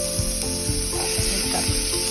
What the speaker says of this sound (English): First thing you want to do is you want to saute onions